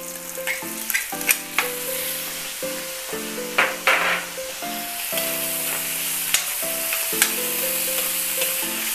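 Pork with young corn and mushroom sautéing in a pan: steady loud sizzling and frying crackle throughout, with periodic clinks and scrapes of a utensil stirring, and a faint tonal hum beneath.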